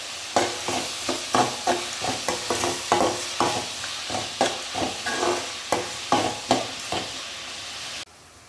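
Onions with rock salt sautéing in a pan for a Tamil-style spicy pepper chicken, a spoon scraping and stirring in a steady rhythm of about a dozen sharp strokes over a soft sizzle, close and clear.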